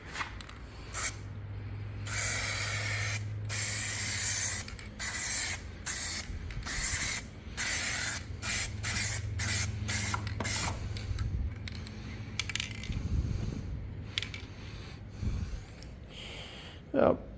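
An aerosol can sprays paint onto a Bobcat S130 part in repeated short and long bursts, up close, with brief pauses between passes and a voice talking now and then.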